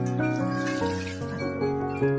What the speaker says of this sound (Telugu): దీంట్లో కొంచెం వాటర్ పోసుకుందాం